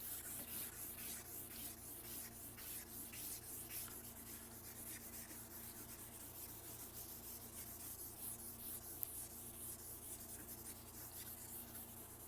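A kneaded eraser rubs across a charcoal drawing in soft repeated strokes. The faint papery scrubbing sits close over a low steady background hum for several seconds, and no voice is heard.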